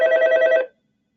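A phone rings with one short electronic trill of rapid repeated tones, loud and close, cutting off abruptly into silence.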